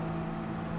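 Car engine in the Gran Turismo video game held at a steady high rev, a brief loud buzzing drone with no breaks.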